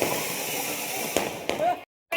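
Two Diwali firecrackers go off in quick succession, sharp but fairly distant pops over a steady hiss of background noise at a family celebration.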